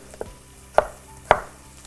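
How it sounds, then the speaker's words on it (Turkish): Knife chopping vegetables on a board while making Turkish ekşili köfte and tabbouleh salad: three sharp, distinct thunks spaced roughly half a second apart, close and clear with no talking. "Şunları da uzun uzun doğradıktan sonra"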